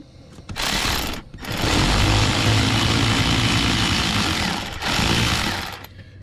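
A power tool whirs loudly and close while driving bolts to tighten a Toyota Corolla starter, in two long bursts split by short pauses, with no talk.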